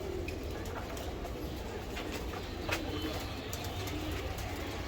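Soft, continuous cooing from racer pigeons sits under a steady background murmur, with a few brief chirps standing out near the middle.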